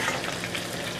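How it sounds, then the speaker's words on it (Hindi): Okra frying lightly in oil in a pan for a spiced bhindi aloo sabzi, giving a short, steady sizzle and crackle that stays even throughout. "तो भिंडियों को हमने ज़्यादा फ्राई नहीं करना है, बस हल्का सा इनको फ्राई कर लें"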